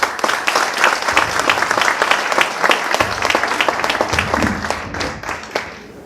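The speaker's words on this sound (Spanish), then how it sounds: "la señora Rosa Olinda Ríos de Freire, a quienes saludamos con un fuerte aplauso" Sustained applause from an audience at a formal book presentation, many hands clapping together in a dense, even roar that carries on for several seconds.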